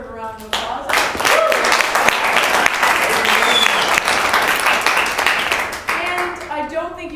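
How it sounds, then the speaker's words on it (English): Sustained applause from a presentation audience, loud and dense for several seconds before tapering off, with someone speaking at the start and end. "I think those ladies deserve a round of applause"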